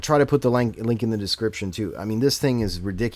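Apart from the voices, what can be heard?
No everyday noise stands out behind the speech.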